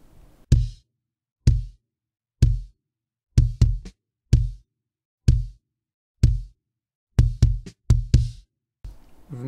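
Kick drum captured by an external microphone, gated and EQ'd with a little added low end: tight, clipped low thuds with abrupt cutoffs and silence between, played in a loose pattern with quick doubles, close with no talk.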